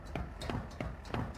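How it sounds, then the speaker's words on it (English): Footsteps in Warzone 2.0, four quick, heavy thuds at an even running pace, fairly close and distinct with no talk over them. "Man, those footsteps are loud."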